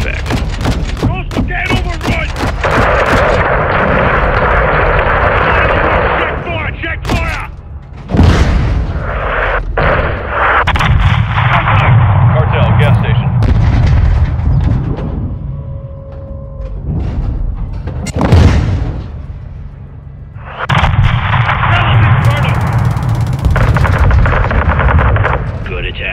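An artillery barrage thunders in Call of Duty Modern Warfare 2, with long stretches of dense, loud rumbling blasts and booms broken by brief lulls, radio voices speaking between the volleys.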